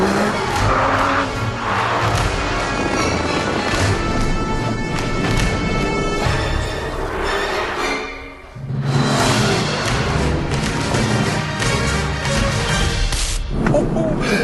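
An Aston Martin V12 Vantage driven hard at speed, its loud engine roaring continuously near the microphone with tyre noise, a brief dip as it lands over a jump and bottoms out, then full power resumes.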